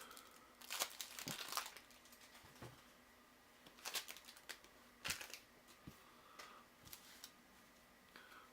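Plastic-wrapped card decks from the Great Western Trail board game being torn open, close crinkling and crackling in irregular bursts with quiet gaps between them.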